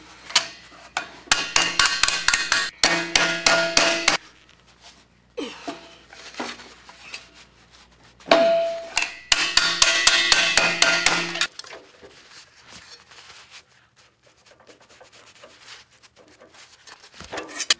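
Sheet metal struck with a hammer while shaping a car cowl vent panel, coming in rapid ringing bursts of close, loud blows separated by pauses, then quieter scattered taps.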